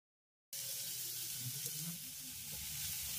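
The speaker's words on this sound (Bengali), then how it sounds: "রসুনটা একটু হালকা ভাজা হয়ে গেলে এবার দিয়ে দেবো আমি পেঁয়াজ কুচি।" After a half-second of silence, garlic and the white part of spring onion start sizzling in a pan, a bright, continuous hiss that holds steady and close with faint stirring underneath.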